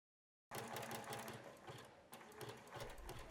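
A sewing machine runs a narrow zigzag stitch on swimwear fabric, starting abruptly after a moment of silence and then whirring steadily with rapid rhythmic clatter, close and alone.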